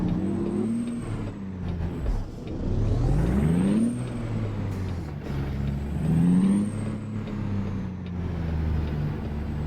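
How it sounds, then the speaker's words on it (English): Peterbilt 389 truck hauling triples in American Truck Simulator: a low, droning diesel engine rumbles steadily, rising and falling in pitch as it revs, with repeated sharp hissing air-brake bursts over it, no talk. "Peterbilt 389, baby. One of my favorite trucks."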